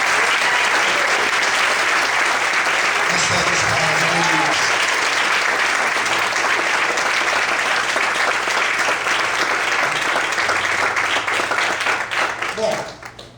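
A church congregation applauding during a worship service, a loud, dense and continuous wall of clapping that holds steady for a long stretch before dropping away abruptly at the end.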